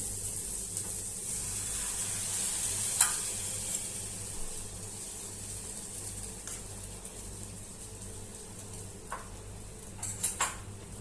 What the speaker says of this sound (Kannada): ಇವಾಗ ನಾನು ಎಗ್ನ ಹಾಕ್ತಾ ಇದ್ದೀನಿ.